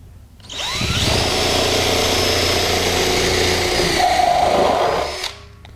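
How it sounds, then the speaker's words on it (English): A power drill spins up and whines steadily as it bores a starter hole through a compost tea brewer container, loud and close, then winds down and stops. "drill a hole in it to get it started"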